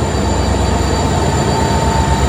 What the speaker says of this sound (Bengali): আমাদের ট্রেন একদম নির্ধারিত সময় প্ল্যাটফর্ম থেকে ছেড়ে বেরোচ্ছে।